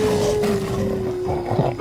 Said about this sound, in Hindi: लगता है बाघ और तेंदुआ आपस में लड़ रहे हैं।